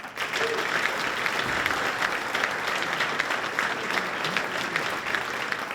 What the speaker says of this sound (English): let's hear a nice round of applause for Nashua North, class of 2009, student athlete Shalyn Johnson